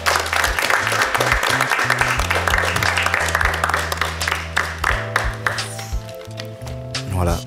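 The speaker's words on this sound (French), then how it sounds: "on peut l'applaudir, s'il vous plaît" Audience applause at a live French talk-show taping about fathers, a dense crackle of clapping carried under background music and speech, fading into more scattered, separate claps toward the end.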